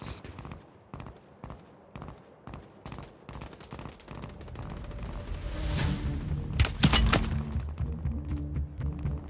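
Gunfire in the shooter game Resurgence, a dense burst of rapid shots building into loud cracks and booms near the end, with no talk over it.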